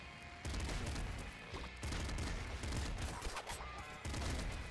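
Rapid bursts of assault shotgun fire from the video game Nuclear Throne, repeated blasts in quick clusters with short pauses between volleys, played at modest volume without talk.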